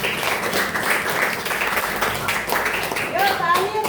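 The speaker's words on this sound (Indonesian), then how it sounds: "Tepuk tangan untuk kelompok." A classroom applauds a student presentation group with steady clapping mixed with voices and chatter, continuous and fairly loud, with a brief higher-pitched vocal sound near the end.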